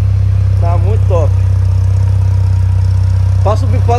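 A Chevette fitted with an Onix engine runs steadily at idle, a loud, constant low hum throughout, with brief bursts of people talking over it near the start and end.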